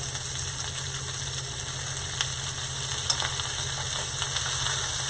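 Small lobsters sear in a pan over very high heat, giving a steady, loud, close sizzle with faint crackles throughout and no talking.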